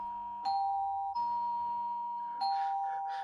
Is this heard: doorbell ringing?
yes